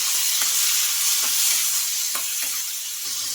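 Chopped tomatoes frying in a pan, a steady bright sizzle throughout with a few soft stirring taps, no voices.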